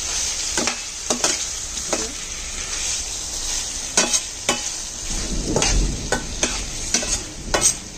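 Baby beans, tomato and onion fry steadily in a pan with a continuous bright sizzle, broken by repeated sharp scrapes and clinks of a utensil stirring, with no talking.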